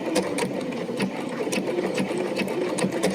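Bernina sewing machine stitching steadily with the needle-down setting, a close, even mechanical whir with rhythmic needle ticks and no voices.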